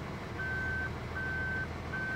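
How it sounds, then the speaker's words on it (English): Harvester backup alarm in Farming Simulator 2013, three evenly spaced high electronic beeps over a steady low engine drone while the machine reverses, clear and close with no talking. "oh yeah, look at that backup alarm."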